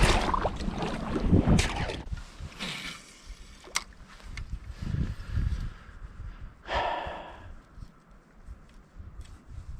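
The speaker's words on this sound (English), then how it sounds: "Gonna paddle over there to try and warm up." Kayak paddle strokes splash and drip on a cold, ice-covered lake, with heavy breathing and snorting between strokes; close, uneven rhythm with several louder splashes.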